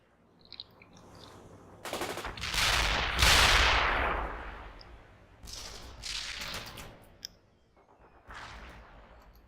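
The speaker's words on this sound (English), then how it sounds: "Get your rifles and move. Fire some grenades at the Attack target." Rifle and grenade fire in the World in Conflict: Soviet Assault strategy game, rattling bursts of gunfire swelling into a dense roar with booms, then further scattered volleys, loud and continuous.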